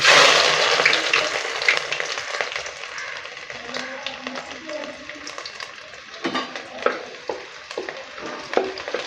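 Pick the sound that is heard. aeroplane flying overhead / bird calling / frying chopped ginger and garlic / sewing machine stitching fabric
frying chopped ginger and garlic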